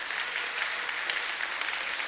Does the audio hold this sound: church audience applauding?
yes